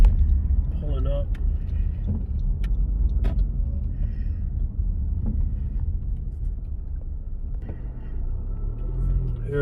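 A car pulls up to a gym parking lot around one in the morning, engine rumbling low and steady while someone talks over it, with a few faint clicks and jangles.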